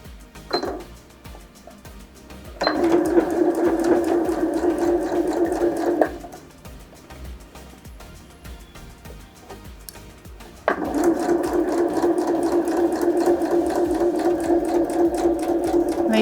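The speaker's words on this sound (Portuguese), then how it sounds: "então essa aqui vai ser a nossa segunda costura" An electric sewing machine stitches a seam on a fabric double pad holder with bias binding, running steadily in two sustained bursts with a quiet pause between them, loud and close with no talk.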